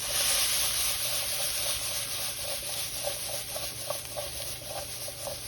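Onions and vegetables sizzle and scorch in a pan, with steady broad frying hiss and faint repeated scraping or stirring, close and moderately quiet, without talk.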